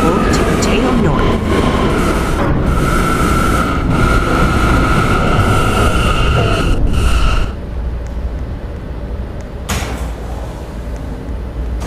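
A video-game subway train in the PTA Fifth Av Lines at Herald Square, rumbling loudly nearby with a screeching tonal whine, then easing to a softer, steadier interior rumble with a brief clunk.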